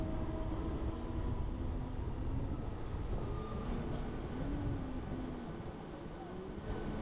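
A local train pulls out of Nandaigajan railway station, a steady low rumble and rolling rail noise filling the whole stretch at moderate level, heard from on board with no break.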